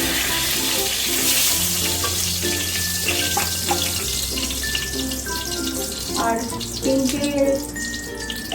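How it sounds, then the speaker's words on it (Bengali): Bay leaves and whole spices frying in hot oil for an egg biryani: a loud, steady sizzle and crackle close up, with occasional utensil clinks and beeping tones in the background. "দিয়ে ফোড়নটা একটু ভাজা হবে"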